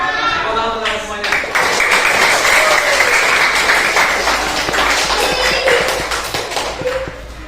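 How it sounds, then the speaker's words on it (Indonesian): A classroom of children claps hands together on a teacher's cue, a loud, sustained burst of dense clapping with some voices mixed in. "Tepuk tangan semuanya."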